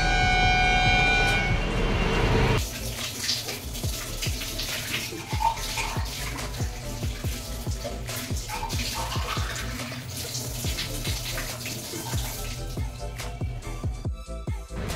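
Water poured and splashed while changing the water for two money plants kept in containers at home, a continuous rushing tap-like flow with a brief steadier gush at the start and small clatters, close by.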